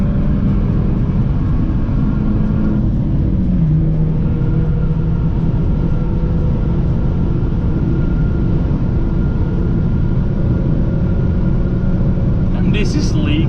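Steady loud road and engine roar inside a BMW 1 Series travelling fast on the Autobahn, a continuous rumble with wind noise throughout.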